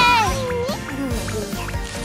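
A cartoon cat meows several times in rising and falling tones while a voice talks over it, set against a busy animated soundtrack.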